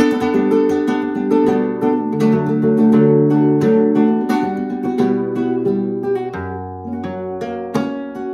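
A flamenco guitar strums a rhythmic escobilla phrase in soleá style, ringing chords with crisp rasgueado attacks over sustained notes, played solo and up close.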